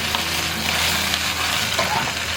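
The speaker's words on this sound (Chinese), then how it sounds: "煎到底下脆熟，我们就给它翻面" Large prawns pan-fry in a little oil, giving a close, steady crackling sizzle with no break.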